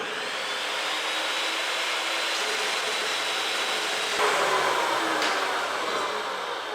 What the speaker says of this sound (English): I'm going to cut out 2 7-inch square tubing